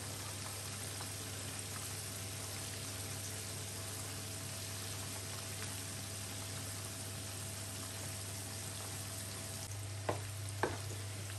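Chicken pieces frying in hot oil for popcorn chicken, KFC style, give a steady, dense sizzle throughout with a low hum underneath and a couple of sharp pops near the end.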